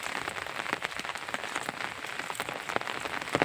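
Steady rain falls in a garden, a continuous soft hiss of drops with scattered sharper patters, close and unbroken.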